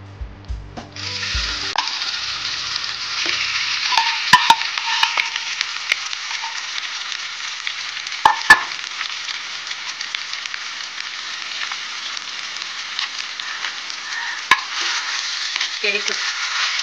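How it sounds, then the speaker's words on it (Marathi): Mashed raw banana frying in ghee in a kadhai, a bright steady sizzle after an initial splash, with occasional spoon scrapes and clinks while it is stirred. "नंतर त्यामध्ये कुस्करलेली केळी टाकायची."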